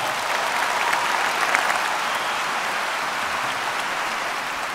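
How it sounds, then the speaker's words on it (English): A large audience applauds steadily and loudly throughout, a dense, sustained wash of clapping with no pauses and no talk over it. "please give them a round of applause"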